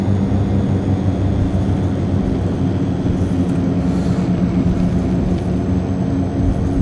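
Simulated aircraft engines droning steadily at half throttle in the Prepar3D v5 flight simulator after touchdown on a runway, a continuous loud low hum with no break throughout.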